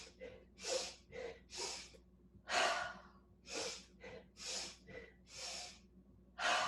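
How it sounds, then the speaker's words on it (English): A yoga practitioner takes a series of deep, audible breaths, about a dozen forceful sniffing inhales and exhales in a steady rhythm, close to the microphone with a soft background hum. "3 breaths of joy and a breath in"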